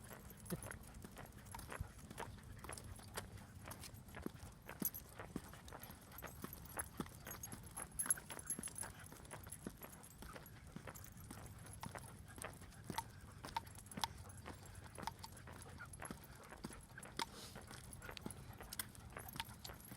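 Horses walking along a trail beside a sidewalk, hooves clip-clopping in a steady irregular patter at moderate distance, with faint jangling and quiet outdoor ambience and no talk.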